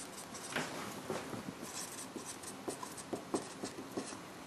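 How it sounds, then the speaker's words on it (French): A pen scratches out a math definition by hand on paper, a soft continuous scribble with small taps and strokes, close and quiet, with no talking. "Je vais l'écrire complètement."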